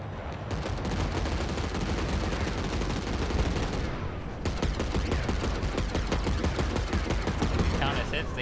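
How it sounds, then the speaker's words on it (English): Continuous rapid small arms fire in the mech game Mecha Knights Nightmare, a steady loud rattle of shots with a short break midway, mixed with other battle noise and talk. "Small arms fire can't hurt them"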